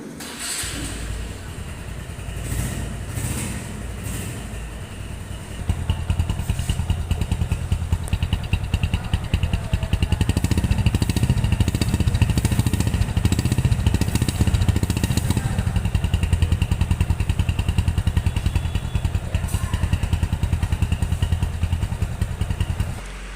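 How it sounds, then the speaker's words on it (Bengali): A Bajaj Discover 135 motorcycle engine runs steadily nearby with a low, even rumble that grows louder partway through and stays constant to the end. "বাইকটির সাউন্ড কোয়ালিটি দেখলেন কত সুন্দর স্মুথ আছে"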